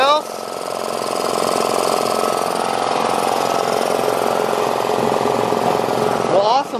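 A homemade air compressor runs continuously with a loud, rapid, rattling mechanical pulse that stays steady throughout, close up, with a brief voice near the end.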